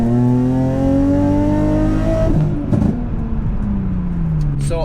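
An Infiniti G35 coupe accelerates on the road at around 40 to 45 mph, its engine note climbing steadily through the revs, then easing off and dropping, loud and close from inside the car.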